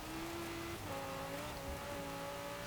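A Lamborghini-based car in the racing game Forza Horizon 4 gives a faint, even engine drone that shifts pitch up through the gears, with no talk.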